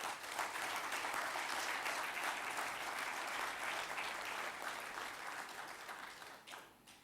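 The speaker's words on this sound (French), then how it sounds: "je vous prie de les acclamer à la hauteur de leurs engagements et de leurs mérites et de leurs sacrifices" Sustained applause fills a parliamentary chamber at the National Assembly's session closing, a dense, steady clapping from many hands that carries on for several seconds before tapering off near the end.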